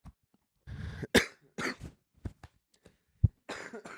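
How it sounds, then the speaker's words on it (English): Several separate coughs from a person, spread across a few seconds with short pauses between them, close and fairly loud with no talking. "It's cough."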